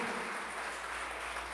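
A church congregation applauding, a dense, sustained wash of clapping from many hands filling the room without pause.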